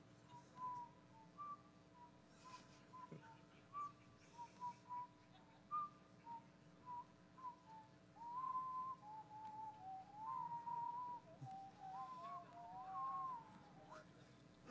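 A person whistles a melody at a hacker conference. The phrases are clear and wavering, rising in pitch and strength toward the end over a faint room hum, and scattered voices sound in the background.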